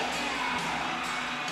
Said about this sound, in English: The crowd is excited here tonight. You can hear them through these noise canceling headphones.